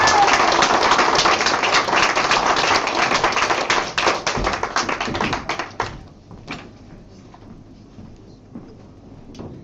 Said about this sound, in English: So a round of applause please for Hördur Torfason.